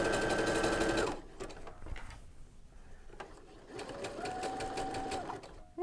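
A sewing machine fitted with a sequins foot runs fast to attach sequin ribbon, a close whirring hum that stops, gives way to a few clicks and handling noises, then starts up again.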